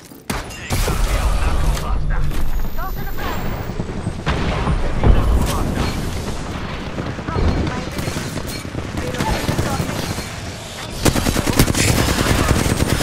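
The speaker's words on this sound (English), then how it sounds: "Shooting." Rapid automatic gunfire in the battle royale game Apex Legends, loud and sustained in long bursts with dense rattling shots and occasional heavier blasts, with a voice speaking over parts of it.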